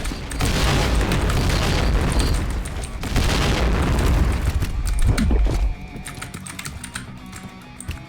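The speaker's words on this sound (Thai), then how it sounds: "ระเบิดเยอะมาก" Dense run of explosions and gunfire in the shooter game Point Blank, loud crackling blasts packed together for several seconds, easing after a brief gap and then trailing off into quieter clicks and rattles.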